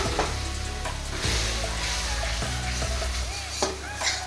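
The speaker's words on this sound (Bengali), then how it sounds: "হাফ কাপ গরম জল দিয়ে মশলাটাকে কষতে লাগলাম।" A spice paste sizzles and is stirred in a pan after half a cup of hot water goes in, a continuous loud fry with scraping stirs and a few clinks of utensil on metal.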